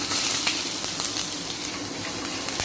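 Prawn and mackerel masala sautéing in a pan with grated coconut, a steady close sizzle and hiss with occasional light clicks of stirring.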